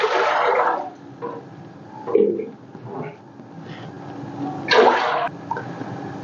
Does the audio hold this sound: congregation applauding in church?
no